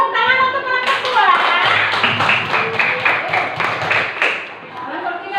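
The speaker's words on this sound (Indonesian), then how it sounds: "tepuk tangan untuk kelompok 2" Students in a classroom clap for a student group, starting with close voices and then breaking into a rhythmic run of loud, sharp hand claps that fades near the end.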